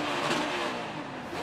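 Ryan Blaney's Ford Mustang NASCAR Cup car at Kentucky Speedway screams at high revs after jumping out of fourth gear while battling Joey Logano, a loud, steady engine roar held over a brief moment.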